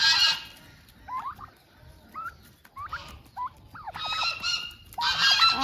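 Farm geese at a rural homestead in Brazil honk in repeated nasal calls, some close and loud, others softer, with short gaps between bursts and no talking.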